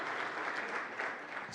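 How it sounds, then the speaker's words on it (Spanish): Applause from an audience at the opening session of a banking congress, a steady dense patter of many hands clapping, fairly faint and distant, with no speech over it. "Veo un aplauso por aquí, gracias."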